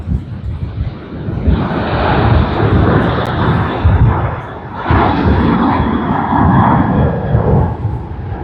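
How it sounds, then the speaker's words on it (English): A Vietnam Airlines Airbus A350-900 jet arriving from Ho Chi Minh City at Sydney Airport gives a loud, broad engine roar that swells after a quiet start, dips briefly, then surges again, steady and close. "Vietnam Airlines from Ho Chi Minh City. Airbus A350-900 VN773."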